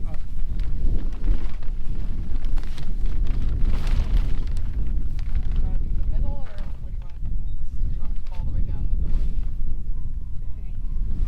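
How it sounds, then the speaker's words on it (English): Strong wind buffets the microphone outdoors while a hoop house is being covered, a loud continuous low rumble with gusts and flapping, and people talking faintly beneath it. "But it was very windy."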